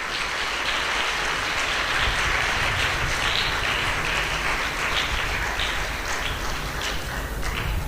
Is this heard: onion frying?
no